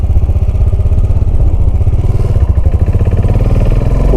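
A Royal Enfield 535 Continental GT motorcycle engine runs close by with a loud, deep, steady thumping single-cylinder pulse throughout.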